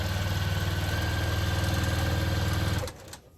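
Steady, fast mechanical whirr of a sewing machine stitching a quilt sashing row, loud and close with a rhythmic chugging, stopping abruptly near the end.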